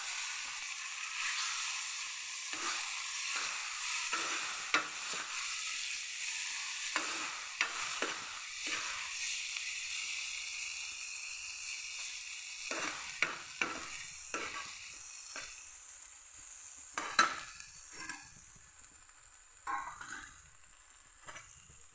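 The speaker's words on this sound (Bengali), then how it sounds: "জিরে ধনে থেতো করে একটু নুন দিয়ে দিই," Crushed cumin and coriander with salt are stir-fried in a pan for kachori filling, giving a steady sizzle and hiss with repeated scraping stirs throughout.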